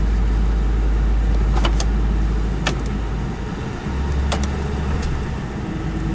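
A used police car runs close by as it is shifted through its gears, with a steady low engine hum, a few mechanical clicks and shifts in engine tone, and no talking.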